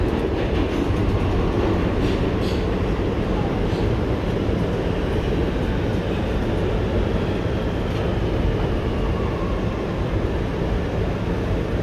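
An R211T G subway train on the IND Crosstown Line runs between stations, producing a steady, loud roar of wheels on track with faint clickety-clack and high squealing at moments, continuous throughout with no talk.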